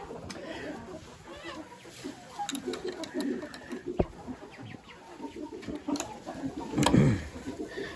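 Cream crested legbar chickens cluck and murmur inside a barn, soft overlapping bird calls close by with a few sharper squawks, mixed with faint background talking.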